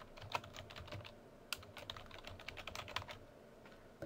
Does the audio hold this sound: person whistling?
no